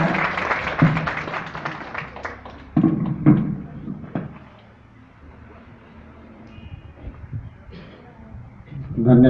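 Audience at a college legal literacy camp clapping, with a moderate burst of applause that fades, mixed with voices and some talking later.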